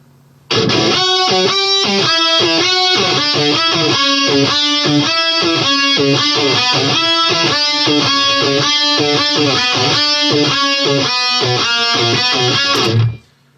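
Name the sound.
Whammy pedal guitar parts soloed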